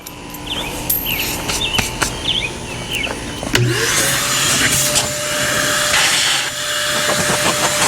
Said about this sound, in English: just blow stuff out and then vacuum